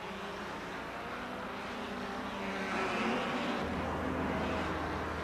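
1957 Formula One racing cars streaming along the back straight behind the pits toward the north curve, a broad, continuous engine roar that swells as the cars pass and carries on at a distance.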